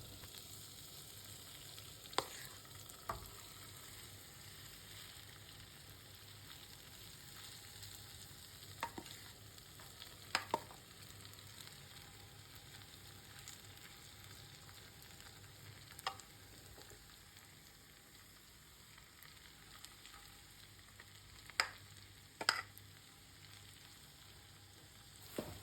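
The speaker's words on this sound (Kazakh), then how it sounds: "Қызып тұрған табамызға майымызды құйып, жаңағы картоп салмамызды жарты бөлігін осылай қасықтың" Potato filling spread in hot oil in a pan, a faint steady sizzle with occasional soft spoon clicks and scrapes, close and quiet with no talk.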